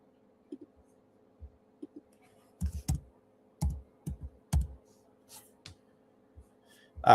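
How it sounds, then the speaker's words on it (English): Scattered bursts of keystrokes on a computer keyboard, quiet and irregular, with short clusters of taps separated by pauses and a faint low hum underneath. "when I type in DNA"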